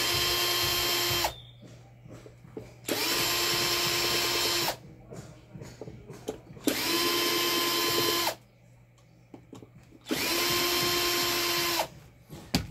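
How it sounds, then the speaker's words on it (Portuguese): An old, unused Skil electric screwdriver removing motor screws runs in four bursts of about two seconds each, a loud close whine with a steady pitch. Short pauses between bursts carry quiet handling clicks. "essa parafusadeira aqui"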